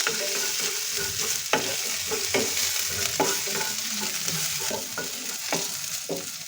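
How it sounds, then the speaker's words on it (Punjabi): Chopped ginger and green chillies fry in a pan with a steady broadband sizzle, punctuated by repeated scraping stirs of a spatula at irregular intervals, close and moderately loud with no talking. "ਹੁਣ ਇਹਦੇ ਵਿੱਚ ਆਪਾਂ ਕੱਟਿਆ ਹੋਇਆ ਅਦਰਕ ਨਾਲੇ ਦੋ ਕੱਟੀਆਂ ਹੋਈਆਂ ਹਰੀਆਂ ਮਿਰਚਾਂ ਇਹਨਾਂ ਨੂੰ 2-4 ਮਿੰਟ ਆਪਾਂ ਹਲਕਾ ਜਿਹਾ ਫਰਾਈ ਕਰਾਂਗੇ"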